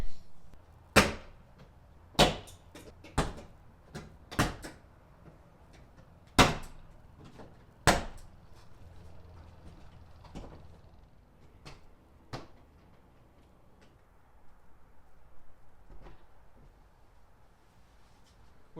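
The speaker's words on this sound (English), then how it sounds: "We need to pop and release each clip up and around, then we'll lift the door panel off the door itself." Plastic door panel clips on a Toyota Tacoma front door popping loose with a trim tool, a series of sharp, close snaps at irregular intervals, louder early on and fainter later, over quiet background.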